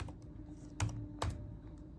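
Two crisp keystrokes on a computer keyboard, spaced about half a second apart, sound close and clear over a low steady background hum.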